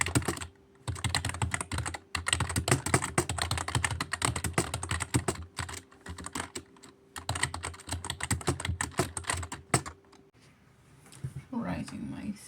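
Rapid typing on a computer keyboard while writing a thesis, steady clattering keystrokes close by that run for about ten seconds with short pauses, then fade out as a faint voice comes in at the end.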